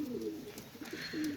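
An imported male pigeon, a Pakistani teddy breed, coos softly in low rolling phrases at close range with quiet surroundings and no talk.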